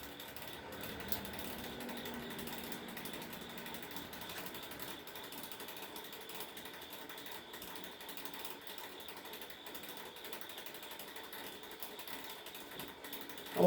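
A ratchet wrench turns to snug a fastener, producing a faint, steady stream of rapid pawl clicks close by, continuing evenly throughout without speech.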